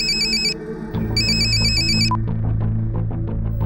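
A phone ringtone chimes loudly in two bursts, a short one and then a longer one, over a busy background of music and ambient noise in a police drama scene.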